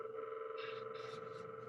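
A simple sine-wave tone on an MPC runs through FrostBite 2 freeze, ring modulator and feedback delay effects, giving a steady drone with bursts of metallic, shimmering texture that swell and fade in short pulses.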